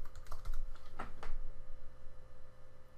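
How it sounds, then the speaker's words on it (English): An admin password goes in on a computer keyboard: a short burst of close key taps, a pause, then a few more distinct strokes over a low steady hum, with no speech. "we have to enter in the admin password"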